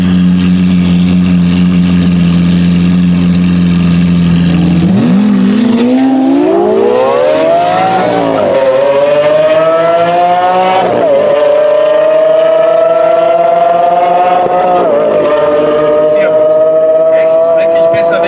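Lamborghini Aventador race cars in a hillclimb-style event: a loud idle that rises into a long, strained wail through the gears, rising in surges and then holding high revs, with commentary faintly heard underneath.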